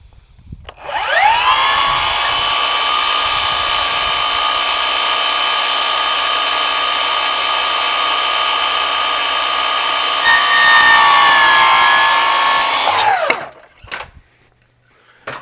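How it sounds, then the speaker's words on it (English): A power saw trims a hair off the miter on a piece of crown molding, a loud steady whine of blade through wood lasting about twelve seconds before spinning down, with no talking. "So we're gonna cut off this miter, just trim off a hair."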